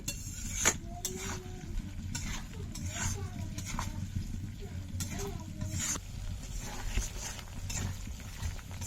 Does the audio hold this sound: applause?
no